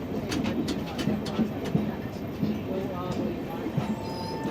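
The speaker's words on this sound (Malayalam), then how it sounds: "നമ്മൾ ജസ്റ്റ് സവായ് മാധോപൂർ സ്റ്റേഷനിലേക്ക് കയറുകയാണ്." Ajmer–Ernakulam Marusagar Express rolling into Sawai Madhopur station, a soft steady rumble with faint rhythmic wheel clicks, heard from inside an AC 2-tier coach with birds cooing nearby.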